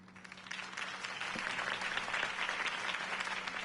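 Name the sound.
crowd applause in a video game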